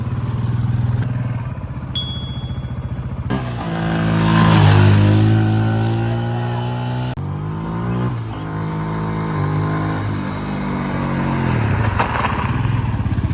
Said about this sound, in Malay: Bukan main laju lagi kau bawa motor eh.